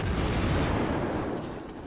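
Incoming enemy ship gunfire in a naval video game: a brief, dull rumble of distant cannon blasts that swells and then fades over a couple of seconds.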